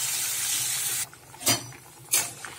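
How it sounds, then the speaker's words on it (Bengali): Round slices of bitter gourd fry in hot oil left over from frying potatoes, giving a bright, loud sizzle that cuts off after about a second. Two sharp utensil clinks against the pan follow. "এই তেলের মধ্যে উচ্ছেটা ভেজে নিচ্ছি"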